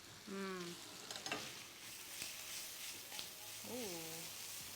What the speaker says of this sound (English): once you saute the lobster meat and you start getting nice firm flesh in the pan